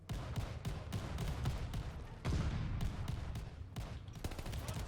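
Shotgun blasts crack out in rapid, irregular succession during a close-range Call of Duty Vanguard firefight, several sharp loud reports over a constant low battle rumble, with no voices.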